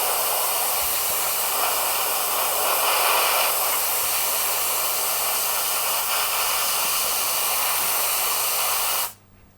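Gaahleri Aventus airbrush putting down a light dusting of spray: a close, steady hiss of air that runs evenly without a break, then cuts off abruptly near the end.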